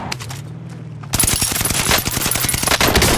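Rapid automatic gunfire in Call of Duty Warzone: after a quiet second, a loud dense burst of shots erupts and continues in fast repeated cracks to the end.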